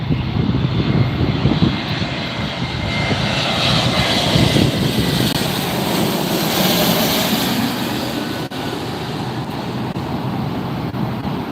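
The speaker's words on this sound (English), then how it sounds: "Here comes the Spirit Airlines." A Spirit Airlines airliner arrives at LAX with a loud, steady jet engine roar that holds close and constant throughout before easing off slightly near the end.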